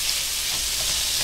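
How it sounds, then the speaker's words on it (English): Bacon fries in a pan over medium heat, giving a steady, loud crackling sizzle with no pauses and no voices. "I'm gonna fry the bacon here over a medium heat, as brown and crispy as you like it"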